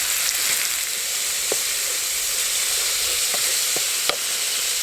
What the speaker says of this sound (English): put in some Spanish sherry vinegar. And then we'll reduce that off.